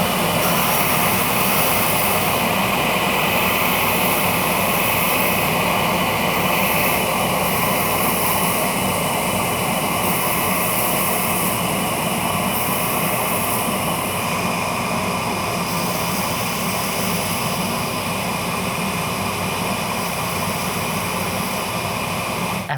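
A bench grinder shapes the tip of a sword scabbard, giving a loud, steady, unbroken whirring roar that holds at the same level throughout with no talking.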